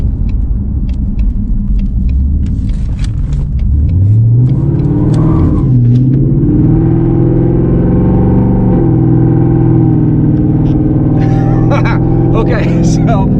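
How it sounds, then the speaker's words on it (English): A 2019 Mustang GT revs and accelerates hard through a U-turn, its engine rumbling loud and close with a rising, sustained roar and a brief scrabble as the wheels break loose, with no talk over it. "I just totally broke the wheels loose on that U-turn"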